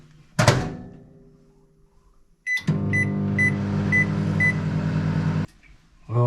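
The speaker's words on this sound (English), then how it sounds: "I'll just microwave it." A microwave oven reheats leftover butter chicken inside a van. A door thunk and a keypad beep come first, then several seconds of loud steady humming with repeated beeps, before it stops and the door clicks.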